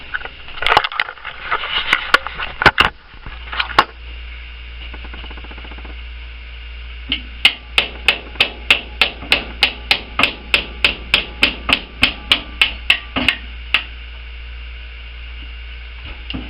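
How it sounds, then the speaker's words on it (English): Steel hammer tapping out a stripped truss rod nut on a Fender Stratocaster guitar: a few scattered knocks first, then a steady run of about fifteen evenly spaced, sharp close taps, with no talking. "So now you just got to tap it out, and that's what I'm going to do."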